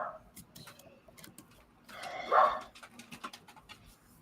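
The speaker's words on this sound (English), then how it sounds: "sorry about the dog" A dog gives a single short bark, close and clear, among quiet background voices.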